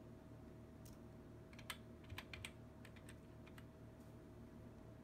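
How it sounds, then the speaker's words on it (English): Soft keystrokes tap on a computer keyboard of a Mac Pro 1,1, a few scattered clicks and a quick burst of typing over a quiet, steady room hum. "type in terminal"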